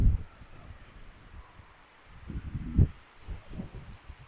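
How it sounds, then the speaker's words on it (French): Gusty wind outdoors buffets the microphone in uneven low rumbling bursts, with the strongest gusts near the start and toward the end, over an otherwise quiet background. "On est parti, il n'y avait pas de vent. On arrive, il y a du vent."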